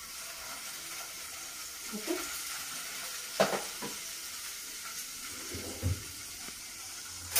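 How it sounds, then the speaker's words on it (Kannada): Paneer slices frying in melted butter over a medium flame, a soft steady sizzle with occasional stirring and scraping sounds, close by and fairly quiet. "ಸೊ ಈ ಬೆಣ್ಣೆ ಕರಗಿದಾದ್ಮೇಲೆ ಪನ್ನೀರ್ ಸ್ಲೈಸಸ್ನ ಈ ರೀತಿ ಹಾಕ್ಕೊಡೋಣ"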